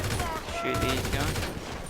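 Gunfire from shooting enemies in GTA with Mark II weapons, a dense rapid burst of shots blended with game noise that runs continuously and loudly for the whole moment.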